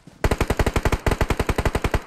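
Rapid automatic gunfire in the mobile battle royale game PUBG Mobile, about seventeen loud, evenly spaced shots in one continuous burst lasting around two seconds.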